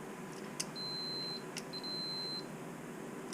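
Electronic beeping from an electrical polarity tester used on third-generation Camaro AC wiring, a couple of short chirps and two longer steady high-pitched tones, quiet and close with no talking.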